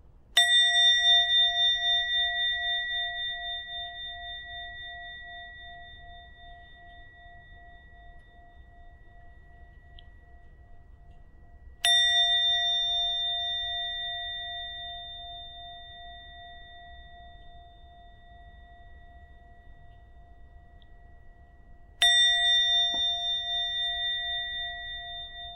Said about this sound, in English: Just follow the sound of the bell.